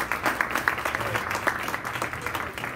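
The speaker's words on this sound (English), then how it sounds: "Can we get a big round of applause for Café?" Audience applause at a science café talk held in a pizza restaurant, a steady patter of clapping from a modest crowd that carries on evenly for a few seconds.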